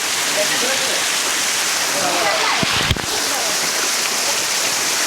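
Close-up roar of Shilbunia waterfall at Alikadam, Bandarban, a steady broadband rush of falling water that never lets up, with a short thump and clatter near the middle.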